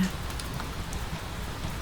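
Steady rain falling outside a tavern, a dense, even hiss with scattered soft droplet patters, continuous and moderately quiet throughout.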